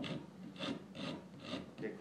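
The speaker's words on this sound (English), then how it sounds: "I'm just going to use a file rather than cutting it, because it's a small amount of wood to remove" A hand file rasps back and forth across the wood of a pinewood derby car, about five steady close strokes with soft, even scraping.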